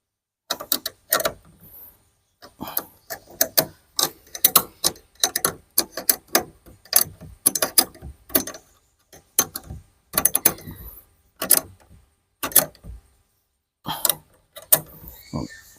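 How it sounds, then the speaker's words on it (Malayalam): Nuts being tightened with a hand tool on the rear dicky shock absorber of a Maruti 800, heard as repeated close metallic clicking and ratcheting bursts with short pauses between them. "2 സ്ഥലത്ത് നമ്മൾ നെറ്റ് ഇട്ടിട്ട് നമ്മൾ മുറുക്കിയാണ് കൊടുക്കുകയാണ്"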